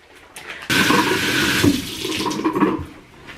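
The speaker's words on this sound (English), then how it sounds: "I run hot water and rinse it thoroughly." Hot water gushes from a tap onto a hedgehog exercise wheel being rinsed, starting suddenly and splashing loudly and unevenly before easing off near the end.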